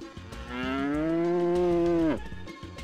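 A cow in the farming video game Harvest Moon Magical Melody lets out one long, clear, drawn-out moo that falls away sharply at the end, with faint game sounds before and after.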